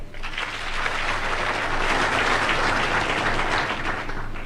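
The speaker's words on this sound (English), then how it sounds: "Let us applaud them all." A ceremony audience applauds a graduating cohort, a full, steady wash of clapping that swells slightly and holds for several seconds, with no talking over it.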